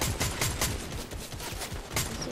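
Gunfire in the video game Fortnite, Zero Builds trios mode: rapid repeated shots and bursts with a steady driving rhythm, loud and continuous, no talk.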